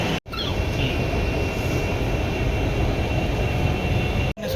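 Inside a moving Mumbai local train, a steady loud rumble and roar of the carriage in motion fills the space, continuous and close, with no talk.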